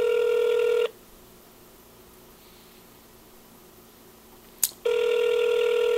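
Telephone ringback tone heard while waiting on a call line, a steady electronic ring burst at the start and again near the end, with a quiet gap of line hiss between.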